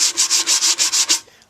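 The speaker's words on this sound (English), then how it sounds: "This wood filler just sands really quick." Wood filler is worked with a sponge sanding block in eight quick, even back-and-forth strokes, a close, crisp scratchy rasp that stops abruptly.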